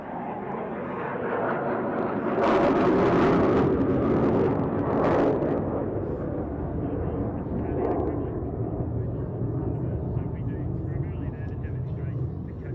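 Military aerobatic team aircraft sweep past at an air show after FA-50 jets, a broad roaring engine wash that swells and then fades into a steady distant drone, with an announcer talking over it.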